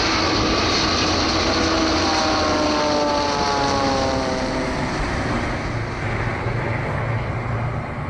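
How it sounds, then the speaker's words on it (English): Air India Boeing 787 engines give a steady, loud broadband roar with a droning tonal layer that slowly sweeps in pitch, sustained without a break and with no speech. "Now let's hear it with the Air India Boeing 787 sound"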